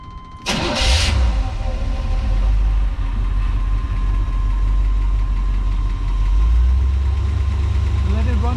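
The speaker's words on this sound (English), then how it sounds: "Now I'm going to start up the engine." A 1978 Chevrolet's engine cranks and catches, then settles into a steady, loud idle that continues to the end.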